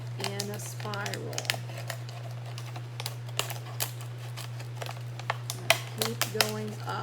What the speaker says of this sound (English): Notice I'm turning the bottle so that I can keep cutting and keep going up in a spiral.